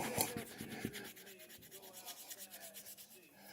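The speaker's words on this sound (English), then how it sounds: "rubbing the edges till you get a little heat and friction going on there" A burnisher rubs the edges of a leather knife scabbard, producing quiet, rapid back-and-forth rasping strokes in a steady rhythm, close and soft.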